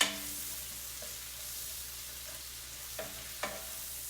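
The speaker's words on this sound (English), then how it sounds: "we're gonna just cook those a little bit. We're gonna add our mushrooms" Mushrooms sizzle in a hot pan while a turkey meatloaf is being prepared, with a steady soft frying crackle and a few light clinks of stirring.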